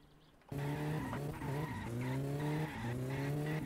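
Loud, continuous tire squeal and skidding from a turbo car in an open-map driving simulator game, with rising and falling engine pitch running nearly the whole clip after a quiet start.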